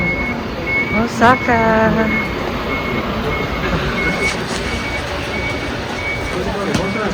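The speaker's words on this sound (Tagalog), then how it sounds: "Yun yung bus terminal." Busy bus terminal in Nagoya, Japan, with a vehicle's reversing beeps sounding near the start over a steady rumble of idling buses and traffic, while people talk throughout.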